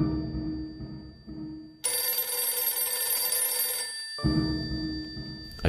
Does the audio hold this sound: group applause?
no